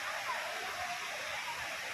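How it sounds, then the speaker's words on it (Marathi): Steady rushing water from the Savatsala waterfall in Parshuram Ghat beside the Mumbai–Goa highway, a constant broad hiss without pauses, fairly loud and close. "परशुराम घाटात सवत्सळा हा धबधबा आहे."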